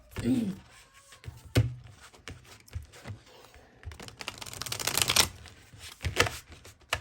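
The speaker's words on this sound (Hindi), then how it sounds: "चलिए अब दूसरे डेक से भी हम ऐसे ही निकालेंगे आपके लिए।" A tarot card deck is shuffled close up in crisp papery riffles and bursts, with a few light thumps between them and faint speech at times.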